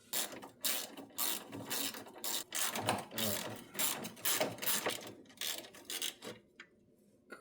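A ratchet wrench loosens a bolt on a Subaru oil pan in a series of quick clicking bursts with short pauses between strokes, close and fairly quiet.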